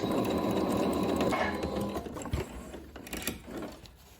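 A sewing machine stitches pant panels with a steady, close mechanical whir that slows and turns choppier toward the end, as if finishing with a back stitch; nobody speaks.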